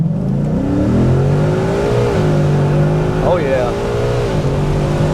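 Car fitted with a classic muffler accelerates from a slow roll, its engine note loud and close, rising and rumbling steadily through the run, with a brief voice exclaiming near the start.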